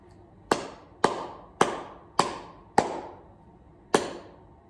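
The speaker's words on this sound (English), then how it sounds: "we'll have a go at clapping together." Six sharp hand claps sound alone, loud and close in a music theory lesson on rhythm, the first five evenly spaced and the last after a longer pause.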